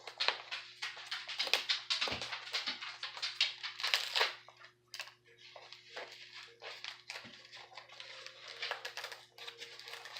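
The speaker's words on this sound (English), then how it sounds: "I'm gonna start cutting back some foam here, or start cutting some zip ties" Zip ties and foam being cut away from a WLtoys RC truck axle, heard as a run of close, irregular snips, crackles and scraping bursts, busy for the first few seconds and then sparser taps and clicks.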